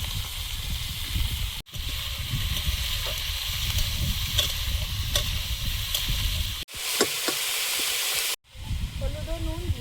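Vegetables tipped into hot oil tempered with dry red chillies and whole cumin, giving a loud, close sizzle and hiss with stirring scrapes, broken by a few abrupt cuts.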